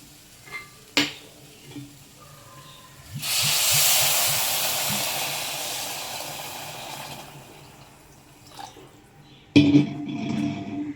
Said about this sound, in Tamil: இப்போ நம்ம தண்ணி சேர்த்துக்கலாம்.